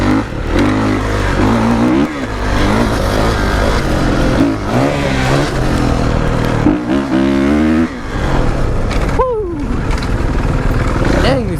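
A motorcycle engine revs hard and drops back repeatedly while riding on a dusty track, close and loud, with rising and falling pitch sweeps over constant wind rumble.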